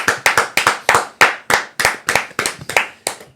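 A single person clapping hands on a fantasy football podcast, about a dozen sharp, close claps in an uneven rhythm, each with a quick decay, heard alone without talk.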